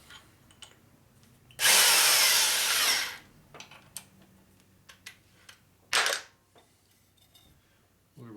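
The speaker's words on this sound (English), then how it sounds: "This reamer's getting worn, so it cuts undersize." Reamer cutting a hole in a part from a 1967 74ci Harley shovelhead motor: one loud, steady grinding burst of about a second and a half, then a short scrape and a few faint ticks, with no voices.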